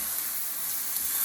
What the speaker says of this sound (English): we're gonna fry them